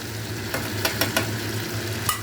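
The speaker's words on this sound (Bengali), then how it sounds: "এখানে আমি সমস্ত মশলা দিয়ে এটাকে কষাচ্ছি, এটাকে ফ্রাই করছি" Masala spices fry in a pan for a chicken dish, a soft steady sizzle with a few light stirring scrapes, faint and close with no talking.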